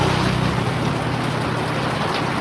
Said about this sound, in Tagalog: Ang lakas ng ulan talaga, sobra